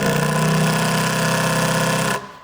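A Makita XGT 40V brushless impact driver, model GDT01, runs at full speed with a loud, steady motor drone and rattle that stops abruptly near the end.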